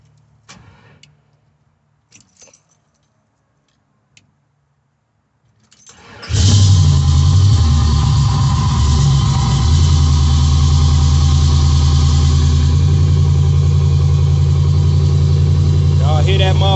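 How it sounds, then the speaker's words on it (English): A car engine cranks and catches after a few quiet knocks and rattles, then settles into a loud, steady idle that runs close by without a break to the end. "we're going to see if this motherfucker start up"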